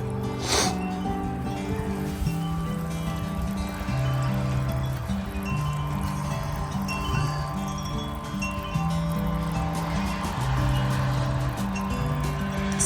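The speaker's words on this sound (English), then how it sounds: "for it to stop bubbling" Steady liquid bubbling and fizzing fills the clip, a continuous gurgling trickle at moderate volume with a faint hum underneath and no talking.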